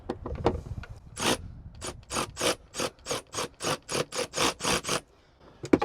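A wrench turns the plastic nut on an Oracle flush-mount tail light, giving about a dozen evenly spaced raspy ratcheting strokes, close and fairly loud, with a few scattered clicks before and after.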